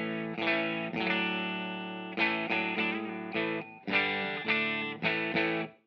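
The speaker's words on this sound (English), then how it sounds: "So right now I have the fuzz going through the clean channel" An electric guitar plays through a Three Bananas Galactopus fuzz pedal into an amp's clean channel. Loud, sustained fuzzy chords ring out in several separate strums, each one fading before the next, with no talking.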